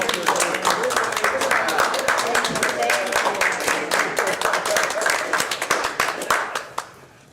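Light applause from a small group at a city council meeting, brisk close clapping that carries on steadily for several seconds, then tapers off, with some voices mixed in underneath.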